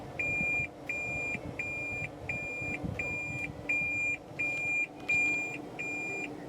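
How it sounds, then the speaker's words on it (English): A 2015 Toyota Prius in reverse gear sounds its backup alert, a thin electronic beep repeating at a steady pace about twice a second, clear and close over a faint cabin hum, with no talking. "When you shift the vehicle into reverse, you will see a standard backup camera, which is for some reason accompanied by an annoying beeping sound."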